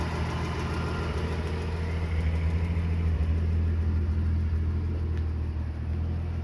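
A 1967 Ford F250 truck engine runs at a steady idle, a close, even low rumble with no talking.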